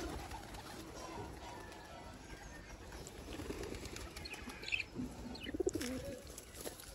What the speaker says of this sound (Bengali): সবগুলা কবুতর আস্তে আস্তে নামতেছে উপর থেকে